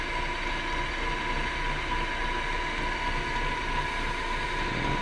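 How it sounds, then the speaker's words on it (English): A wood lathe spinning at about 1650 RPM, giving a steady, loud mechanical drone with a constant hum and no pauses throughout. "my lathe is going about 1650 RPM"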